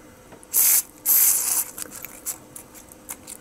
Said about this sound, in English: I squirt some switch cleaner in there